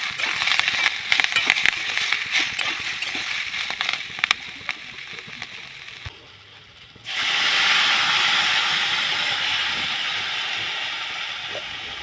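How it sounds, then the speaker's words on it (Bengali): Scraping stirs over hot fried cauliflower stalks and vegetables with turmeric, then water is poured into the pan and a sudden loud, broadband steam hiss erupts and continues steadily to the end. "হয়ে গেলে এর মধ্যে হলুদ দিয়ে একটু নেড়ে চেড়ে পরিমাণ মতো জল"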